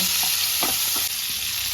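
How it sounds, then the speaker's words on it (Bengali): Pieces of pointed gourd (potol) fry steadily in hot oil, a close, continuous sizzle with a few soft stirring scrapes and no voices. "এবার পটলগুলো ভেজে নেব"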